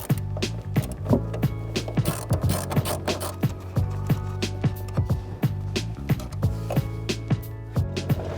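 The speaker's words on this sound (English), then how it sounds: "we're just going to loosen the nut and remove the rest by hand" A ratchet wrench loosening the 8mm nuts that hold the tail light on a 2016-2018 Chevrolet Camaro, rapid close clicking in steady repeated bursts with no talking.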